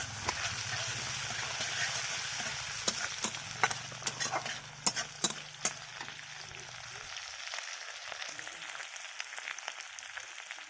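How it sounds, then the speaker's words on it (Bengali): Tomato is stirred into a frying fish curry masala with garlic and onion in a pan, giving a low sizzle broken by scattered scraping taps of a spatula that thin out toward the end. "ভালো করে নাড়াচাড়া করে দিচ্ছি।"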